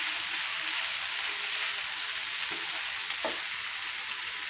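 Vegetables with kasuri methi stirred in a hot pan, a steady soft sizzle and hiss of frying throughout, with a couple of faint scraping touches from the spoon.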